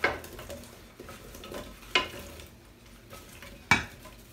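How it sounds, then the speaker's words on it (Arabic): Onion tossed into a hot pan while cooking Moroccan rfissa, giving a few sharp sizzling bursts as it hits the oil, with stirring and scraping of a utensil against the pan between them; close and alone, no talk. "نضيف البصل"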